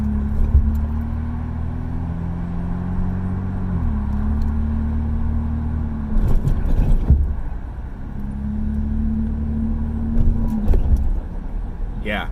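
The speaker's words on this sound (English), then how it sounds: "Yeah, it squeaks." A 2015-2019 Chevy Colorado truck cabin squeaks and rattles while driving, with keys jangling over a steady low road and engine drone, brief louder bursts of creaking recurring a few times.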